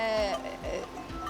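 Goats bleating at a summer farm in Norway: one clear, wavering bleat opens the clip, then fades into softer, quieter farmyard sounds with a few low thumps.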